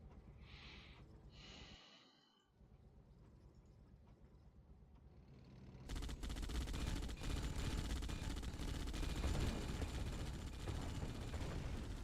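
Sentry guns in Yuri's Revenge, played in the Redux mod, open fire: muffled scattered shots at first, then a dense, loud stretch of sustained gunfire and battle noise from about the halfway point, with no voices.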